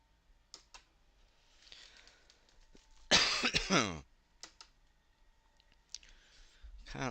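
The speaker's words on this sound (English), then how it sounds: "Can't shift that cough." A man gives a single harsh, loud cough up close, a lingering cough following scarlet fever, amid faint clicking and light background noise.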